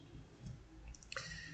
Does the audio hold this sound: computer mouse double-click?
yes